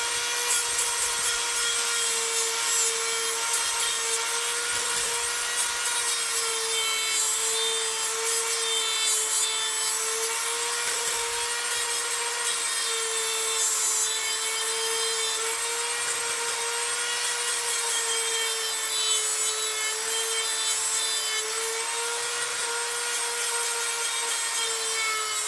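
A 7-string Benavente bass guitar neck is buffed with buffing compound, a continuous whirring friction drone with a steady tonal hum running unbroken and loud at close range, with no talk.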